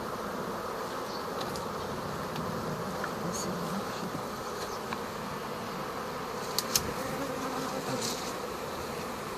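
A honeybee swarm being caught and moved into a hive in Georgia makes a dense, continuous buzzing drone, close and steady throughout, with a few sharp knocks near the end.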